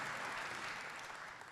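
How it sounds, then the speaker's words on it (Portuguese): A conference audience applauds at the opening of a São Paulo trade event, a dense, steady wash of clapping that holds evenly and fades slightly at the end. "eu peço uma salva de palmas para o Eduardo"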